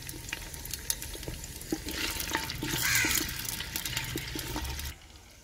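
Two medium onions fry in a cup of oil in a clay handi, giving a steady, close sizzle that swells briefly in the middle before cutting off.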